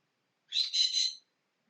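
A bird in Hatoful Boyfriend lets out a short, shrill screeching cry lasting under a second, split into two or three quick bursts against silence.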